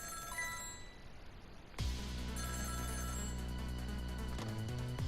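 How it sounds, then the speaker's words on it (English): A telephone rings in the Ghost Trick video game, a loud electronic ringing that starts abruptly and repeats steadily over game background tones, with no voices. "Every time that phone rings, it's bad news."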